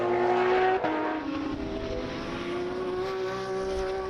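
An Audi R8 race car with a Stradale Motorsport entry circles a racetrack during a racing festival. Its engine drones at a high, steady pitch that dips slightly partway through, heard from a moderate distance without commentary.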